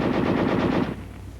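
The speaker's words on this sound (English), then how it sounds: "Weapons giving automatic fire will fire continuously as long as pressure is applied to the trigger" An automatic weapon fires a rapid continuous burst, loud and close, with evenly spaced rattling shots for under a second before cutting off into a fading echo.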